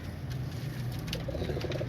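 Ambarsari pigeons coo nearby in low, soft, repeated murmurs over a faint hum, with some light rustling from the birds.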